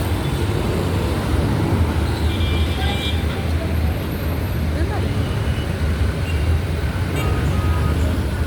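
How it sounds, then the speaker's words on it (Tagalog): Road traffic sounds as a steady, dense rumble of passing vehicles, loud and continuous throughout, with no clear breaks. "Traffic."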